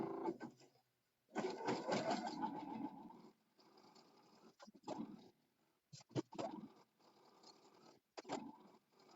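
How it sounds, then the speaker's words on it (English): A sewing machine zigzag-stitches along fabric edges for a bowtie, heard as close, quiet mechanical runs in several bursts separated by pauses, with small handling clicks between them and no speech. "we're just going to zigzag all these edges to secure them"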